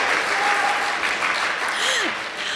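Steady applause from an audience, a dense wash of clapping hands sustained throughout, moderately loud with a brief faint whistle.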